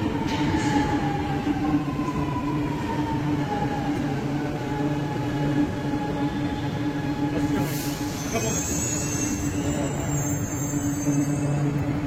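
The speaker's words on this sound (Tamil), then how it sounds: "மெட்ரோ வந்துருச்சு" A metro train arriving on the way to the airport, rumbling loud and close with a falling whine and squealing wheels that rises near the end as it slows.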